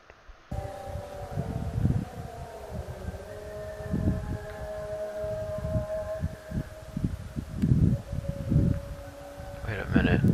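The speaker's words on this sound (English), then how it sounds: "You can hear the Muslim song to prayer in the background." Muslim call to prayer drifts from a distance, a sustained wavering chant over wind and low rumble near Damascus International Airport, faint beneath nearby handling noise and thumps.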